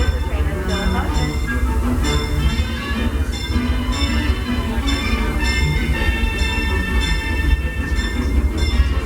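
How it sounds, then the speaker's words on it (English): Disneyland Railroad steam train rolling along in motion, a continuous rumble with rhythmic wheel clatter, metallic squeals and ringing tones, heard close from aboard. "The train is still in motion."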